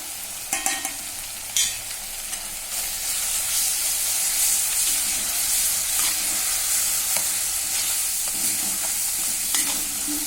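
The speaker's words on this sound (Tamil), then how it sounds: "இந்த எண்ணெயிலே நல்லா வதங்கட்டும் ஒரு நிமிஷம்." Ground coriander and cumin spices frying in hot oil for an egg pepper fry, a steady close sizzle with stirring scrapes near the start, continuous and fairly loud with no voices.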